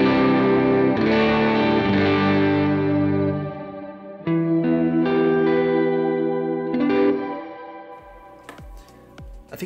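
Guitar through a Specular Reverb V3 pedal set to shimmer with octave, low decay and tone: sustained chords bloom into a wide, warbling wash with a faint upper octave, ringing out and decaying between strums, no talking.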